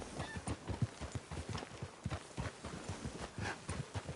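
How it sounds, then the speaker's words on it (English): Horse hooves clip-clopping in a steady, close rhythm of repeated sharp thuds, a lively gait with no talking over it, set in a Western scene. "Get a hold of that horse, will you?"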